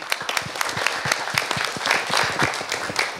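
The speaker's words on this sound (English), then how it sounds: "So please give yourselves a round of applause." A short burst of audience applause at a diabetes health talk, with dense, steady clapping close by and no voices.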